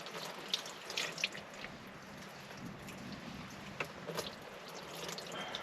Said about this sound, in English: there's water going everywhere